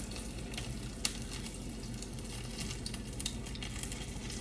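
Battered onion rings sizzle in hot oil in a pan, a faint, steady crackling fry with small pops and clinks now and then, no voices.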